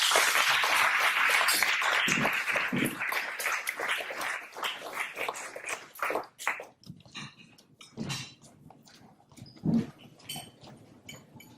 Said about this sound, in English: Please give me a nice round of applause for Laura Baliestero.